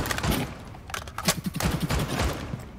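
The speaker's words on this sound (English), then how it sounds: "he's shooting at me from behind the bar" Gunfire in the video game Rainbow Six Siege during a Tower team deathmatch, with rapid, loud bursts of automatic shots crackling in close succession, without clear talking.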